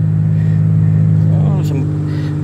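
A car drives along with a steady, close, low engine and road rumble inside the cabin, holding an even level throughout, with a brief voice over it.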